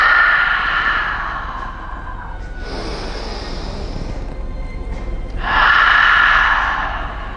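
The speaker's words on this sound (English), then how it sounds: "just breathing, not talking" Slow, steady breathing during a Classical Reformer Pilates rowing exercise, with long audible inhales and exhales swelling and fading in a rhythm, close and fairly loud with no talking.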